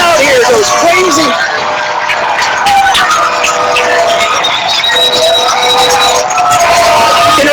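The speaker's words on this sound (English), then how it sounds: "And the crowd here goes crazy." A Friday night high school football crowd roars after a go-ahead score, loud sustained cheering and shouting that fills the stands, with a commentator's voice running over it.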